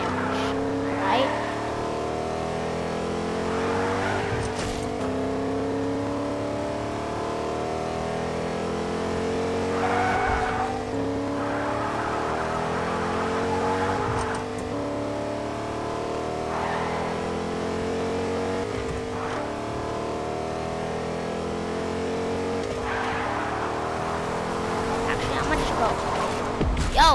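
Cars driven in Fortnite, including a slow vehicle called the bear, roar steadily with engine drones, revving swells and tire squeals throughout, while a player talks over the action.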